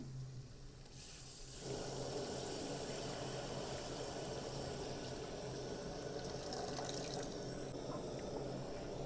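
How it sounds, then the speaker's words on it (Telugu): Tamarind juice poured into a pot for a village-style green chilli fish curry, a continuous watery pouring and splashing that starts after a moment and keeps flowing steadily, fairly quiet. "ఈ చింతపులుసు మొత్తం ఇంట్లో పోసుకుందాం"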